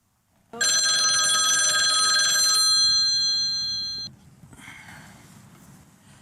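A telephone rings loudly and alone, with a steady electronic tone that cuts off abruptly, then a faint trailing hum and quiet room noise; heard during a Querétaro public television program.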